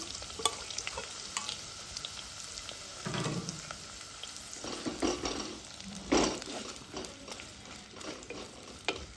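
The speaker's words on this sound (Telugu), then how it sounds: "ఈ ఉల్లిపాయలన్నీ మంచిగా మనం నూనెలో మంచిగా వేయించుకోవాలి ఫ్రెండ్స్" Onions and three green chilies fry in hot oil in a clay pot, a steady broadband sizzle with scraping stir strokes at irregular intervals, some louder clacks of the spoon against the pot, close and moderately loud, no talking.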